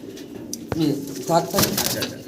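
Pigeons at a market stall give brief soft coos close by, mixed with people talking and handling noises.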